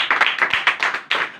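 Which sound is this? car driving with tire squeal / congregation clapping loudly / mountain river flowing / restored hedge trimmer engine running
congregation clapping loudly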